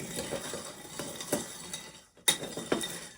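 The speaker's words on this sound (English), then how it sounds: "I'm going to mix all of those together." A spoon stirs the ingredients of a Bramble blackberry cocktail with sugar syrup in a glass, giving close clinking and scraping with a few sharper knocks.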